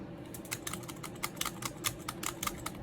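Quick, irregular clicks of fingers on a computer keyboard, typed close by at a soft level in short bursts with slight pauses between them.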